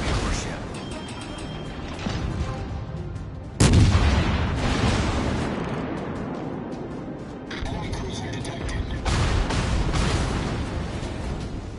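Naval guns blast at an enemy warship in a video game featuring the battleship Jean Bart, heavy booming salvos with one sharp thunderous report and lingering rumble, while a voice speaks over the barrage.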